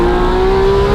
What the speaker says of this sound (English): we put the FI exhaust on this car, and while it sounds 100 times better than it used to, it's just a little quiet for my taste